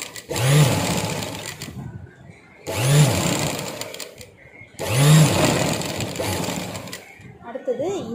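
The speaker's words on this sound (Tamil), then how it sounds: "சீம்படி தைச்சுக்கலாம்." A sewing machine stitches the seam of a 38-inch blouse in three separate runs of a couple of seconds each, a loud, close, whirring motor hum with brief pauses between bursts.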